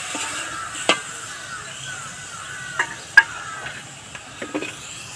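Taro stems mixed with boiled red lentils are stirred in a pan, quiet soft scraping with a few sharp spatula knocks against the metal and a faint simmering hiss beneath.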